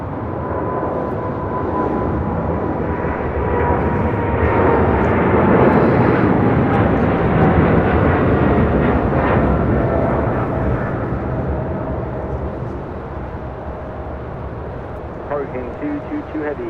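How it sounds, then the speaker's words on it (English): A heavy cargo jet, Cargo King 222 bound for Shanghai, takes off from runway 25 left at LAX at night, a loud sustained engine roar that swells and slowly fades into the distance. "This is Cargo King 222 taking off to Shanghai."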